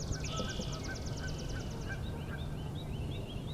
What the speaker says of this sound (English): All those distant vocalizations are Canada goose.